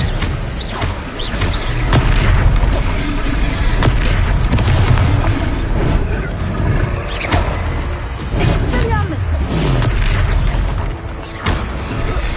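The Expelliarmus disarming spell being cast in the game Hogwarts Legacy: loud magical blasts and booms repeat through a busy duel, mixed with mechanical creaks and sharp pops, and a voice is briefly heard.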